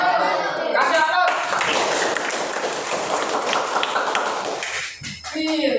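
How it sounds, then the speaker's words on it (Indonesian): Applause breaks out in a classroom, a burst of clapping from a group of students that rises sharply, holds for a few seconds and then tapers off, with voices before and after. "Kasih aplaus."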